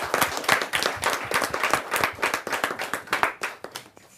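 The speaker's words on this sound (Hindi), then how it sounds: "जोरदार ताली के साथ हम उनका स्वागत" A kavi sammelan audience claps vigorously in welcome, loud and close with distinct sharp hand strikes forming a brisk, uneven rhythm that carries on for about four seconds before thinning out.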